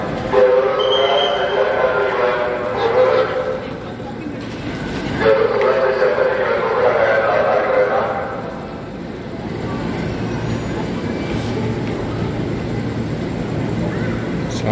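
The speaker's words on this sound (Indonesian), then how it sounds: "Suasana ruang tunggu KRL di stasiun Manggarai." A KRL commuter train rumbles through Manggarai station in Jakarta, with a horn or whistle sounding twice amid steady platform noise and people talking nearby.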